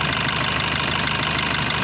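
A 2018 Maruti Brezza ZDi diesel with automatic transmission idles steadily up close, a continuous even rumble with a fine regular knock and no voices.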